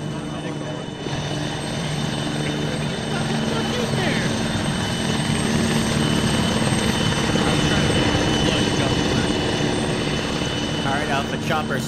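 A helicopter in the video game Arma 3 produces a loud, continuous rotor and engine roar throughout, with some faint chatter in the background.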